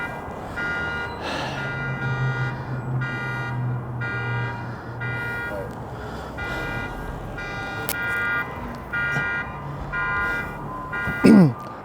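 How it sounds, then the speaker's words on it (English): A car alarm blares outdoors, cycling through loud repeating electronic tones and whoops for several seconds, with background noise beneath and a sharp bump near the end. "now that we've been interrupted multiple times by the car alarm"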